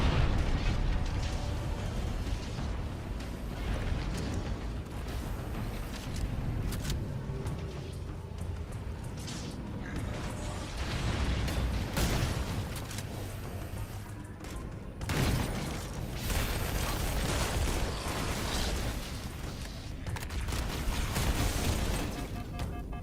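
Fusion reactors exploding in a Halo game: a dense, continuous barrage of booms and bursts with rumbling blasts layered over each other, loud throughout with sharper spikes around the middle.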